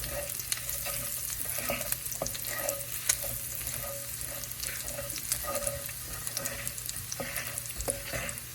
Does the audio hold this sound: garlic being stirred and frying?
yes